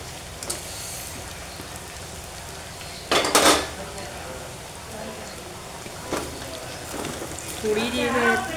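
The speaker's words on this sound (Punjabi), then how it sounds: "ਸਾਰੀ ਅਰਬੀ ਆਪਾਂ ਜਿਹੜੀ ਕੜਾਹੀ ਤੋਂ ਪਲੇਟ ਵਿੱਚ ਕੱਢ ਲਾਂਗੇ" Metal scraping and clattering against a wok as cooked taro is transferred to a plate, a couple of sharp bursts amid quiet kitchen noise, with a voice speaking near the end.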